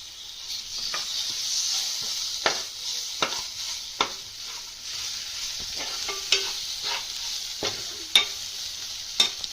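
Ginger garlic paste fries in a pan with a soft continuous sizzle, broken by repeated sharp scrapes and clinks from a spoon stirring it at an uneven, unhurried pace, heard close up.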